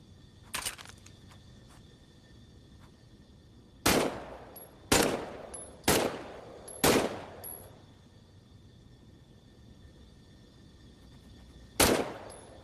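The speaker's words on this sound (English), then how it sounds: "why don't you test fire your weapon?" Test-firing a weapon in the Medal of Honor video game: one early shot, then four loud evenly spaced gunshots with short decaying tails, a pause, and a final shot, over a quiet ambient hum.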